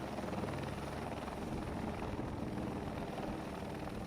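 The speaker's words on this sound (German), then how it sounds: "Klar kann er schweben, der Heli" A helicopter hovers while placing building elements, its rotor thudding in a loud, steady, close drone that fills the whole stretch without talk.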